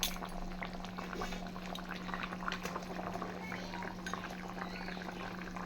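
A pot of fish curry with taro and potato bubbles steadily at a low simmer, soft popping and gurgling throughout with a faint constant hum beneath.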